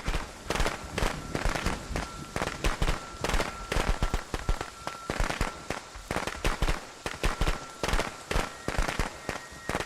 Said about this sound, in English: Fireworks in effect.